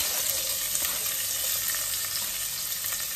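Onions sizzle steadily in milkfish oil reused from an earlier fry, a dense, even crackle that is close and continuous throughout with no talking.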